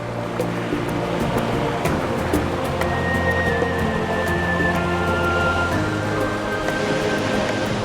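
Water pours and rushes steadily where streams converge into a river in Guizhou, China, a dense, unbroken roar that stays loud throughout, with a faint high tone drifting over it midway.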